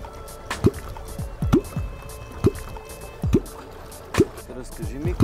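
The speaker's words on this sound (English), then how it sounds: "This is how you beat a klyonk." A wooden klyonk is beaten on the water surface to lure catfish, making a series of sharp hollow plunking gulps at irregular intervals, close and loud, with water sloshing between strikes.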